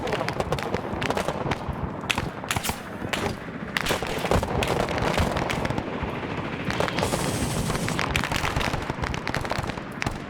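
Dense, continuous gunfire and explosions in Arma 3 during a SEAL operation with an anti-aircraft gun, rapid overlapping bursts and sharp cracks filling the whole stretch, loud and close.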